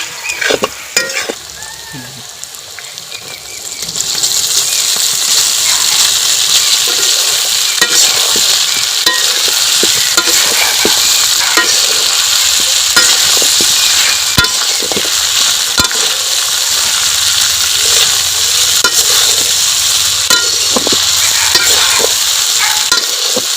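Boiled pasta being stirred into sauce in a hot pan, loud continuous sizzling with scraping and clattering stir strokes throughout, quieter at the start.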